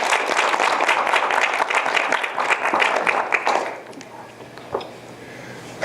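An audience breaks into sustained applause at a transitional justice panel, welcoming President Santos to the stage. The dense clapping is loud at first, then thins out and fades to a quieter murmur near the end.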